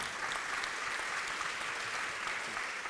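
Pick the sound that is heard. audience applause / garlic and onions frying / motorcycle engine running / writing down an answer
audience applause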